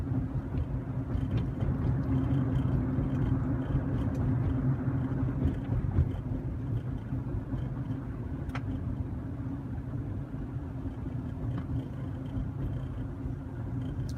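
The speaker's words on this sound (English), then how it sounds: "Traffic is slowing up as usual." Road traffic heard from inside a car on the highway home, slowing in congestion: a constant low engine and tire rumble with a steady drone, no voices.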